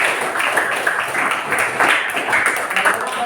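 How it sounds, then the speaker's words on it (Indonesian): Audience applause after classroom presentations in a teaching session on Islamic moral education, a steady broadband patter of many hands clapping throughout, fairly loud and continuous with no break. "Tepuk tangan untuk kita semua."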